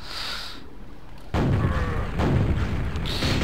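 Heavy explosions in the Quake video game, a couple of deep booming blasts that hit suddenly and rumble on, loud and close, with no talk over them.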